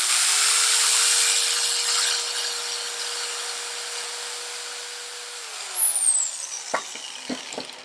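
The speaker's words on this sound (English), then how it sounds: "not jigsaw, the bandsaw." A bandsaw cuts a wooden zero-clearance insert for a Kobalt KT1015 table saw, the motor whining steadily and loud as the blade bites wood, then spinning down, followed by a few light knocks and handling sounds.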